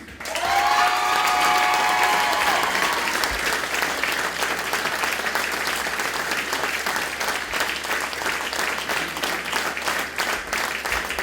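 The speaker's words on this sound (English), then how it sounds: "Je vous demande d'applaudir Mélanie." Loud, sustained audience applause fills a hall at a dance gala, steady dense clapping from start to finish with a brief tonal sound at the start.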